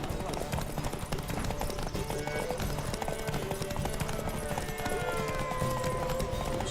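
Horse hooves galloping in a race in The Witcher 3, a steady rapid clip-clop under game music and crowd noise, with voices talking throughout.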